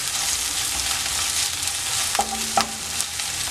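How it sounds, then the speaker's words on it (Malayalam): Ginger, garlic and green chilli fry in hot sunflower oil for vegetable spring roll filling, a dense, loud, steady sizzle with a couple of brief clinks of a spoon against the pan near the end. "അതിലേക്ക് നമ്മളിവിടെ എടുത്തു വെച്ചിരിക്കുന്ന ഇഞ്ചി വെളുത്തുള്ളി ഇട്ട് കൊടുക്കാം."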